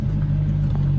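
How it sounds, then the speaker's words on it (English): A straight-piped Corvette Z06 engine holds a loud, deep, steady rumble at close range, with no revving or change in pitch across a short stretch. "Sounds really like a Corvette should"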